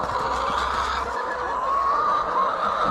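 Free-range chickens cluck and murmur nearby, a busy layered chatter of hens mixed with soft outdoor background noise.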